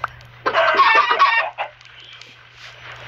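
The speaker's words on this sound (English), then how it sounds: "The chickens are about to escape it." Chickens cluck in the video game Minecraft, a burst of several quick, bright clucks close up followed by a fainter trailing cluck, over a steady low hum with no talking.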